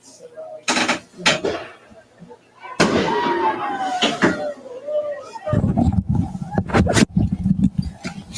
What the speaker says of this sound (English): Fireworks flying here in Newberry as the Indians are on the board.